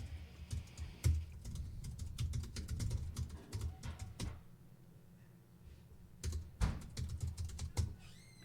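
Close keyboard typing while composing an email, quick bursts of clicky keystrokes with a few sharper key taps and short pauses between runs.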